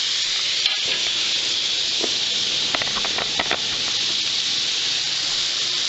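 Buck burgers frying in a pan, a loud, steady hissing sizzle with a few brief crackles and pops over it.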